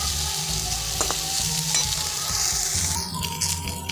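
Onions frying in a pan for a potato and onion fry, a steady close sizzle with occasional scraping from stirring, loud and continuous with no talk.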